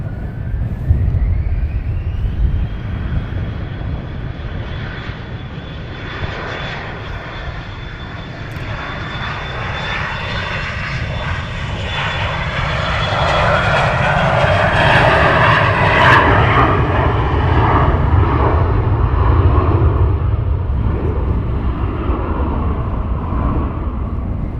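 A Ryanair airliner at Luton Airport roars with a sustained jet engine drone that swells louder midway, a rising whine layered over deep rumble, with no talk.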